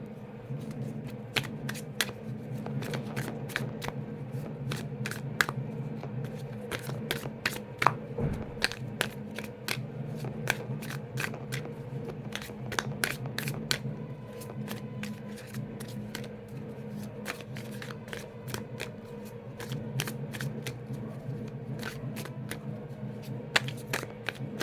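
A deck of cards is shuffled repeatedly in one long stretch, with rapid riffling bursts and crisp snaps close to the microphone and no talking.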